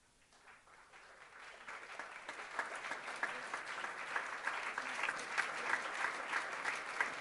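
Applause from a temple audience at a Krishna Janmashtami morning class, starting faint and swelling into steady, dense clapping that holds for several seconds.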